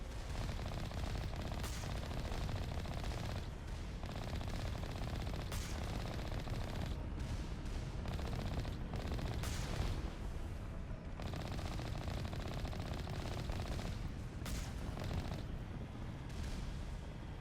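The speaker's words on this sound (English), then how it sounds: "Who else is shooting at me?" Gunfire in the Mass Effect video game: dense bursts of rapid shots and booming impacts over a continuous loud rumbling din, with repeated sharp cracks throughout, no talking.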